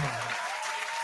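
Audience clapping erupts in a dense, steady wash of applause that holds at an even, fairly loud level for about a second, with no talk over it.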